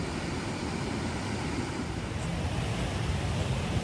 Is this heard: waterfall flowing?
yes